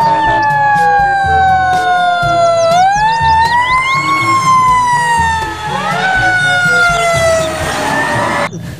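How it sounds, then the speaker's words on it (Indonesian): A fire truck siren wails loudly and steadily, its rising and falling tone sweeping through several cycles over low engine rumble, close and continuous with no talk. "Wah, ini mobil pemadam kebakaran."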